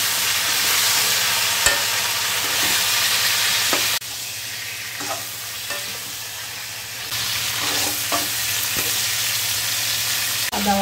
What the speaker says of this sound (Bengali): তাতে তেল দিচ্ছি, জিরে ফোড়ন দিলাম, আলুটা দিচ্ছি, ফুলকপিগুলোও দিয়ে দেবো।